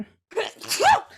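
A single close, sharp sneeze with a quick intake and forceful burst, loud and isolated in a quiet room.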